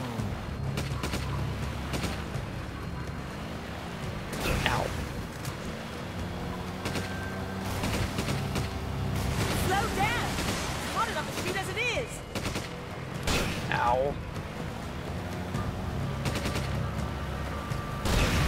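Gunfire in Resident Evil 5 on PC, set in a swamp: repeated shots and bursts crack over a dense, busy bed of game music and effects, with a voice talking through it.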